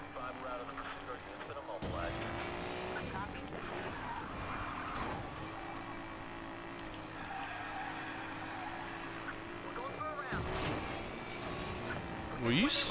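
Nissan drifting in Need for Speed Payback, with steady engine drone and long tire squeals rising and falling over several seconds while someone talks over it.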